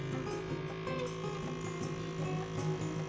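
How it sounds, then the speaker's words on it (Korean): An io unbalance vacuum blender runs with a steady electric motor hum and whine, close and continuous with no talk. "진공 블렌더 버튼을 누르면 끝!"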